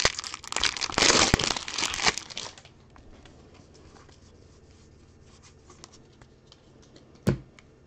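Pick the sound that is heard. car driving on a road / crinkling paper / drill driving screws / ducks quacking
crinkling paper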